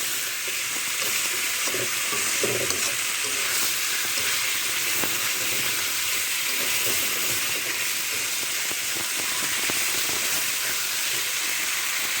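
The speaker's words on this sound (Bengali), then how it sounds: "ভালোভাবে কষিয়ে নেবেন" Fish curry sautéing in a pan, a dense, steady sizzle and hiss of frying that holds evenly throughout with faint stirring sounds underneath.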